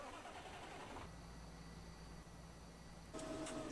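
A Fendt Vario 828 tractor engine in Farming Simulator 2015 runs as a steady, moderate mechanical hum with a low idle drone. Near the end it shifts into a brighter, louder tone, with no talk over it.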